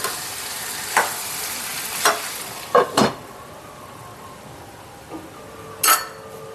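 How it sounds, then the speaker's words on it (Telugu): Mutton pieces tossed with salt and chili in a frying pan, a handful of sharp scraping stirs spaced a second or so apart over a soft, steady background, close and moderately loud. "ఈ ఉప్పు, కారం ముక్కలకి బాగా పట్టే విధంగా ఒకసారి ఇలా కలుపుకొని"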